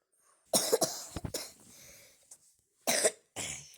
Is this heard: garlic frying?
no